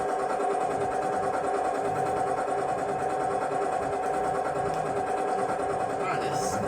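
A tractor engine runs at a steady, even drone with a mid-pitched hum and faint vibration throughout, heard from close by in the cab, with a voice talking over it.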